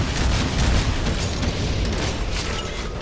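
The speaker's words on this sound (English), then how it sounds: "he made one last ditch effort to shoot a rocket in my face" In the video game Doom (Plutonia 2 with Brutality mod), a Revenant's rocket explodes at close range, producing a dense, roaring blast that rumbles continuously for a few seconds.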